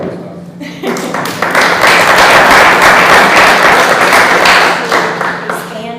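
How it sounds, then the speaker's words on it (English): Applause at a county school district meeting swells after a brief pause into loud, dense clapping from a roomful of people, holds steady, then tapers near the end, with a low hum underneath. "I feel like he needs kind of a round of applause"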